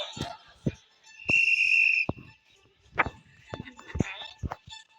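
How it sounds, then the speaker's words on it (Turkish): A whistle is blown to start a casual outdoor game, heard as one steady shrill blast of about a second amid nearby chatter, laughter and scattered knocks. "Peki ben düdüğü çalmadan başlamaz."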